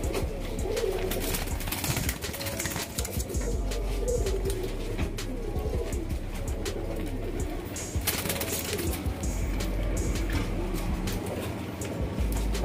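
Pigeons coo softly and repeatedly nearby over a constant low background hum, with occasional rustling and clicks.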